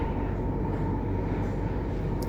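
Steady rumble of a train running toward Exeter in Devon, heard from inside the carriage as a continuous low roar with faint rail noise and no talking.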